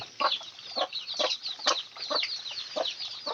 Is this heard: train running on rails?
no